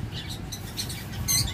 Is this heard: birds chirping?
yes